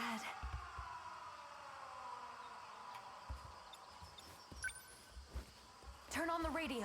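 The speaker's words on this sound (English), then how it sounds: "Not again. The sirens." Air raid sirens wailing in the video game 13 Sentinels: Aegis Rim, a steady, moderately faint rising tone with soft background sounds and a brief voice near the end.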